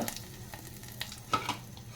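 Curry leaves and asafoetida sizzling and crackling in hot oil for a Maharashtrian khichdi, quiet close-up spits and pops over a soft frying hiss.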